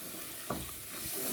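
Spices for a Bengali-style fish curry fry in a pan while being stirred, a faint steady sizzle with a soft scrape or two, alone and fairly quiet.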